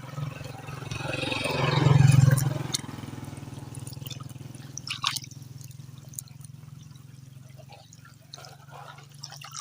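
Water gushes from a broken pipe along the Chakswari bypass. It makes a steady outdoor rush that swells loudly early on, then settles into a softer, continuous trickling flow.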